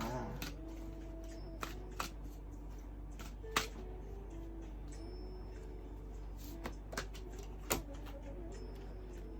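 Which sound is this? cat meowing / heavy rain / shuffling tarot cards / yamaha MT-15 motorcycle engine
shuffling tarot cards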